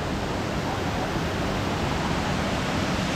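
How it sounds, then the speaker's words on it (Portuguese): Steady, broad rushing roar of the Cachoeira da Ressurreição waterfall in Águas Mornas, constant and enveloping with no breaks or voices. "Aí, rapaziada, cachoeira."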